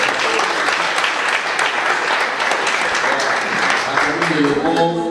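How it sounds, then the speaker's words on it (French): An audience at a community reforestation awareness event in Yoko applauds the top student of the class, a loud, steady wash of clapping filling the whole stretch, with voices rising near the end. "On va applaudir spécialement pour le premier de la classe."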